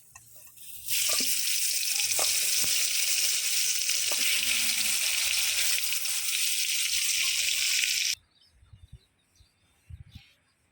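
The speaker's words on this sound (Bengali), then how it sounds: "এখন দিয়ে দিবে যে বেগুন ভাজা বেগুন ভাজা শুরু করবো" Eggplant slices fry in a pan with a loud, steady broadband sizzle that runs for about seven seconds and then cuts off, leaving faint clatter and small knocks afterward.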